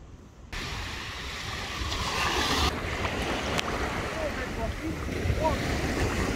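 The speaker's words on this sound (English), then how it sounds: "Baltic Sea." Baltic Sea waves wash and rush against a breezy shore with strong wind buffeting the microphone, the surf swelling loudly after a brief quiet start.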